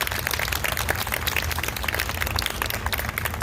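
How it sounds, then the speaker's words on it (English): An audience at a veg festival talk gives dense, steady applause that fills the whole moment, a continuous wash of many hands clapping at close range with no voices over it. "give yourselves a round of applause for being here"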